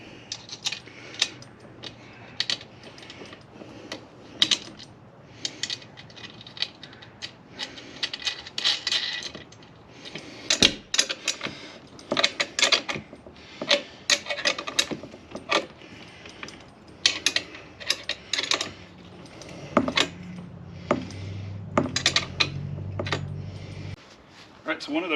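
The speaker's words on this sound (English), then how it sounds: "just slide the bolt through and put on the washer and the nut" Metal bolt slid through a Gorilla Cart handle with a washer and nut fitted on, giving scattered clinks, ratcheting taps and metallic rattles in uneven bursts, close up and moderately loud.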